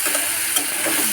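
Fish pieces dropped into browned spice paste in a hot pan for a Bengali fish curry, giving a loud, dense sizzle and frying hiss with a few soft stirring scrapes, close and steady without voices.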